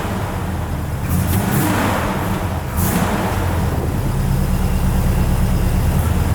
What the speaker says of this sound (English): You can feel it when I hit the gas.